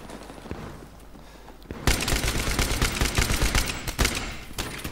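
Gunfire erupts in a Battlefield 3 team deathmatch multiplayer match: after about two quiet seconds, loud rapid bursts of automatic fire and overlapping shots continue without pause to the end.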